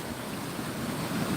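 A small waterfall on a creek in a park gives a steady, close rushing and splashing of water, continuous and fairly loud with a slight wind-like hiss, with no voices.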